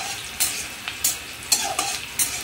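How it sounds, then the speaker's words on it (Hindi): Onions fry in a pan for boiled potato bhujiya, a low hiss broken by sharp, rhythmic spatula scrapes roughly every half second, close and clear with no talking. "अच्छे से फ्राई कर लेंगे। इसके बाद हम डालेंगे इसमें कांदा जो हमने कट करके रखा है।"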